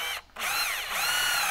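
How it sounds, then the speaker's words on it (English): Power drill driving a screw during a winch installation on a new Land Rover Defender, a loud close whirring burst with a brief pause before the motor spins up again. "I'm going to put a screw in here, just like I did just then"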